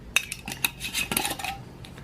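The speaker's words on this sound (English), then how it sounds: "Pop the top back on" A plastic lid snaps back onto a container holding eggplant flesh, seeds and water, giving a few sharp close clicks and knocks in quick succession.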